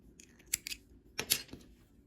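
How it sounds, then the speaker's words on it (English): Two quick snips of scissors cutting yarn while crocheting a granny square, close and fairly soft, separated by a short pause. "Cut the yarn,"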